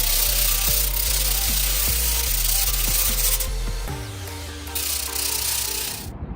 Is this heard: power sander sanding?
yes